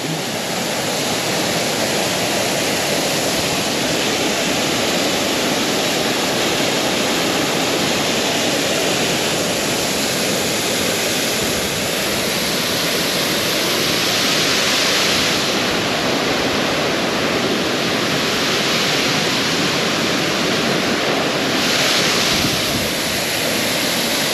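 A waterfall in Spain roars loud and close as a continuous dense rush of falling water, with wind buffeting the microphone and swelling in gusts through the middle.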